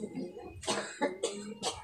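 A few short, harsh coughs in quick succession, close and fairly loud, with a quieter murmur beforehand.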